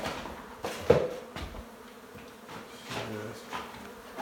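Agitated honey bees swarming around a large hive on a house, a faint diffuse buzzing under scattered knocks and rustles nearby.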